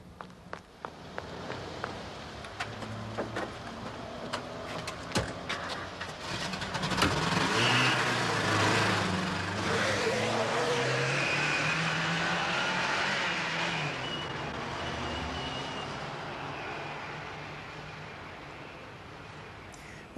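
A red car's engine starting and revving as it drives away outside a shop in Southampton, preceded by footsteps, the engine swelling mid-clip then fading over the remaining seconds, with no talk.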